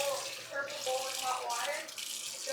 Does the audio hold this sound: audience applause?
no